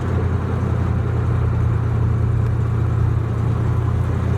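A 1981 Pontiac Trans Am with a Quadrajet carburetor, driving in fourth gear after sitting 18 years: a steady, loud low engine drone with a constant hum, smooth and unbroken throughout.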